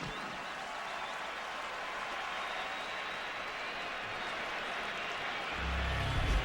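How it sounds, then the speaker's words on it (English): A stadium crowd at the 2009 AFC Divisional Playoff between the New York Jets and San Diego Chargers applauds the kids in a broad, steady roar of clapping and cheering, swelling slightly with a low rumble near the end. "let's give the kids another round of applause."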